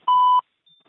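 An automated IVR phone system beep, one short, loud steady tone followed by near silence.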